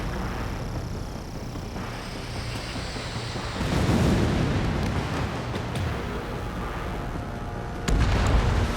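A missile launches and detonates in the Ace Combat 7 air-combat video game, with a rising roar around the midpoint and a second loud burst near the end over steady engine-like rumble.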